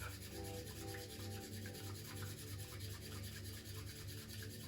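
A bamboo whisk beats matcha tea in a bowl, a faint, quick rhythmic scratching and rubbing that repeats steadily, close up and quiet, with no speech.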